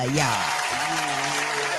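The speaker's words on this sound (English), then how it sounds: "Let's clap for her" An audience applauds for a comedian, a steady wash of clapping throughout while someone talks over it.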